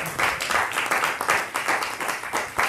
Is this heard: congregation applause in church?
yes